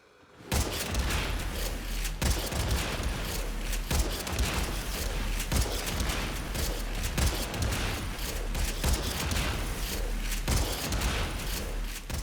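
Kuva Tonkor grenade launcher firing in the video game Warframe, repeated loud booming shots roughly every second and a half over a dense, continuous wash of game effects.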